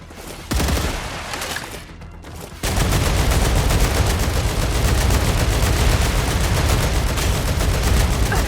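Dense, continuous automatic gunfire in the StarRupture game, loud and unbroken after a brief lull, a sustained rattling volley of rapid shots with no talk.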